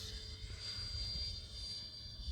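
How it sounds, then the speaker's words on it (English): Sapac Eurofighter model jet with a 64mm electric ducted fan flying at half throttle, giving a steady, moderately distant whine and rushing roar that holds throughout without breaks. "Not bad for a 13-year-old plane."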